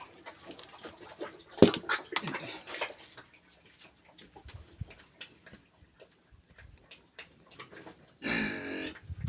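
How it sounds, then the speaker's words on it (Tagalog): Pigs being fed on a farm give scattered grunts and oinks among clicks and rustling, with one short louder squeal-like burst near the end, fairly close and sparse. "Bigyan natin itong mga baboy na ito."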